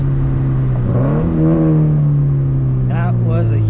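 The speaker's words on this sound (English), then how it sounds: "That was a heel toe." Engine of an FRS sports car blipping through a heel-toe downshift, revs rising and settling in a steady droning tone from inside the cabin, with a brief higher rev burst near the end.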